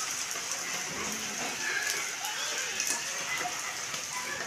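Steady rain falls in Bahawalpur as an even, continuous hiss of drops on surfaces, close and moderately loud with no other sounds standing out.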